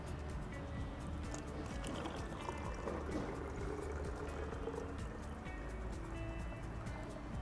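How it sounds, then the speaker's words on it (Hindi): Water poured into a set of connected plastic bottles during a science fair demonstration, a steady continuous trickle and splash under busy crowd noise throughout. "मतलब अगर यहाँ हम पानी डालेंगे ये भर जाएगा तो पानी यहाँ आएगा"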